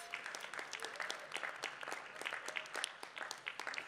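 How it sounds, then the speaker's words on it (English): Faint, distant applause from an audience at a tech presentation, with an even patter of clapping and a few sharper claps, and no voices over it. "Can we just have a round of applause for them, guys?"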